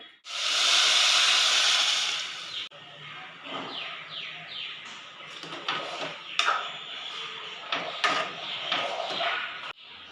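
A loud burst of sizzling hiss as boiling water hits roasted semolina in a pan for jaggery sanja, then bubbling, scraping and clinking as the mixture is stirred.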